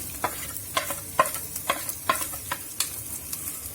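Chili powder is stirred into oil in a pan for a Travancore-style fish curry: a spoon scrapes in regular strokes over a soft, steady sizzle, heard close up.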